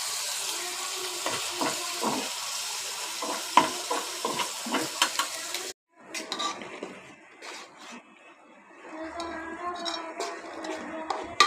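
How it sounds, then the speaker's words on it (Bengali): Onions frying in a pan for beresta give a crackling sizzle with stirring scrapes, then a sudden cut to a quieter stretch of sparse clinks and water-like sounds. "এই যে এখানে আমি পেঁয়াজ বেরেস্তা করে নিচ্ছি"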